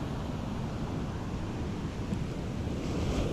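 Ocean waves wash steadily onto China Beach, a continuous broadband surf roar with some wind buffeting on the microphone, moderately loud and unbroken for several seconds, with no voices.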